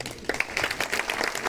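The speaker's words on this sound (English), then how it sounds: "so we gave him a big applause again" A conference audience gives a short round of applause for a visiting professor at the IEEE ETCM 2024 conference, with scattered claps rising into a modest, fairly quiet ovation.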